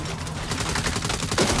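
Rapid, continuous turret gunfire in the video game Saints Row, a loud rattling burst of shots packed closely together throughout.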